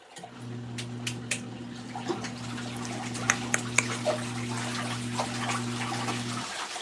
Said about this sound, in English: Oh, here we go again, the splashing